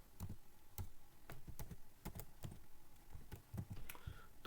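Code being typed on a computer keyboard: quiet, close, irregular keystrokes clatter in quick bursts, with no voices.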